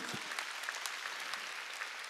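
A congregation at a Sunday worship service in a Korean church applauds, a quiet, brief patter of many hands over about two seconds, steady throughout with no voices over it.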